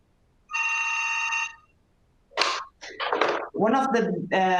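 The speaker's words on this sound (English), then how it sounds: "sorry, because the phone rang" A telephone rings once in a steady electronic burst lasting about a second, fairly loud and clear, followed after a pause by a person speaking close by during an online lecture on health education.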